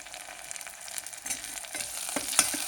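Tomatoes dropped into onions frying in oil, making a rising sizzle with scraping stirs and a sharp clatter near the end, with no talking.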